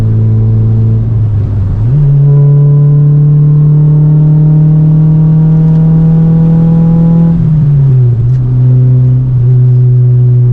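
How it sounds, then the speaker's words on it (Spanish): Engine of a Renault Clio Sport 2.0 16V 182 hp heard from inside while a Seat León comes up behind to overtake, a loud steady drone that rises in pitch with acceleration, holds, then drops back as the revs ease. "ahora ya quiere pasar el León, que pase"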